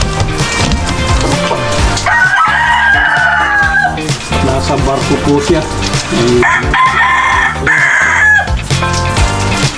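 Chickens and a rooster kept as backyard poultry in the rainy season, with repeated loud crowing and clucking up close, under and between a person talking throughout.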